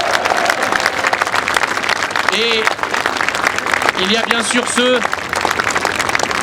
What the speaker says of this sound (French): je veux que vous les applaudissiez très fort